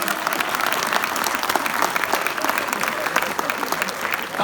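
An audience claps in a steady, moderately loud patter that stays level throughout, with a faint voice underneath.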